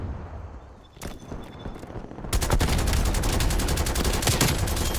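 Rapid gunfire from a video game shooter: a few scattered shots, then a dense, loud, sustained volley of close overlapping bursts.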